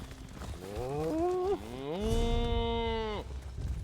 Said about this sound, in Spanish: Ay, las vacas.